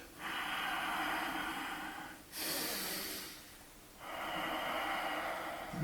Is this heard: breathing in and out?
yes